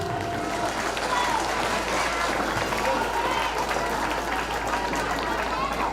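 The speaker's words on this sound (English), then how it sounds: "Let's give a big round of applause, everyone." A large crowd applauds at a silver jubilee celebration marking a synod's 25th anniversary, a continuous dense roar of clapping and crowd noise with voices mixed in and a low rumble beneath.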